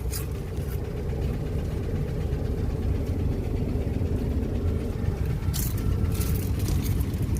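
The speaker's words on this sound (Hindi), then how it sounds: "ये देखो कितना ट्रैफिक है" Road traffic stuck in a jam: a continuous low rumble of idling engines, close and steady, with faint brief higher noises near the end.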